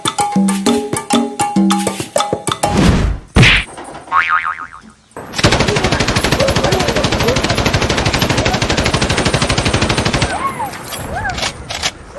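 Toy gun sound effect firing rapid machine-gun bursts, loud and continuous for several seconds after a springy boing and clattering thumps, in a Bangla comedy skit with monkey play.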